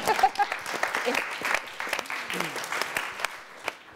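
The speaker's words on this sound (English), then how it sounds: "I think you should have a round of applause, really" Applause from a seated audience at a panel discussion on diverse talent in drama, scattered claps in a moderate, uneven round that tapers off toward the end, with people talking over it.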